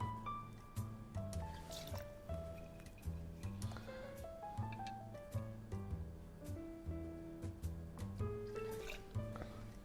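Bacardi Gold rum is poured into a measure, a soft trickle and gurgle of liquid heard close by with small drips, set against a faint background of music.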